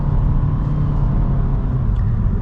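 A 2025 Honda Civic Sport picks up speed on the road, heard from inside the cabin. A steady low engine and road rumble holds evenly throughout, with no voices over it.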